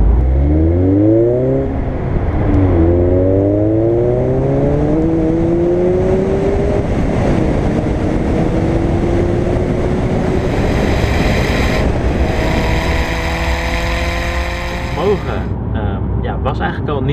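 A tuned Alfa Romeo Giulietta QV revs hard through repeated rising engine sweeps, loud and close, with climbing pitches through the gears and a steady high drone near the end.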